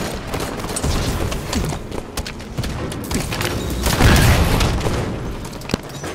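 Loud, dense video-game gunfire and booming impacts fill a multiplayer fight, with a heavy burst near the middle and sharp cracks scattered throughout. A railgun may be among the weapons, but it cannot be singled out from the rest.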